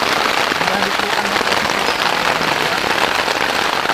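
Sudden heavy rain pours down during a camping trip in a Kalimantan forest park, a dense, steady hiss of rain on surfaces that holds at the same loudness throughout without a break.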